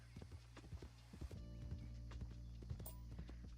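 Cantering horse in the Red Dead Redemption 2 (RedM) video game: a steady rolling run of close, distinct hoofbeats over a low constant background hum, with no talking.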